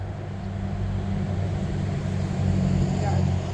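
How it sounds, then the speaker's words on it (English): Trucks and cars rush past on a busy road in a steady, loud, close roar that swells near the end, with no talk over it. "Sorry about the trucks, guys. It's a little loud."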